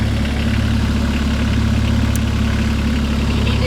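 A Kioti CS2530 tractor engine running at steady low revs, a loud close, constant rumbling idle with no talking.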